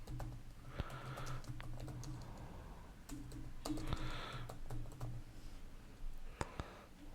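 Code being typed on a computer keyboard, quick irregular clusters of light key clicks and taps at close range, quiet, with soft pauses between bursts.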